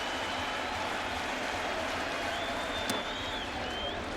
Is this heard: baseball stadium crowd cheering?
yes